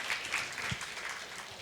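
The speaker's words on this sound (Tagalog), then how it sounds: "Pwede ba sa pang malakas na palakpak sa Panginoon?" Congregation at a Sunday church service applauding, a faint, distant wash of clapping from a crowd, steady and brief with no voices over it.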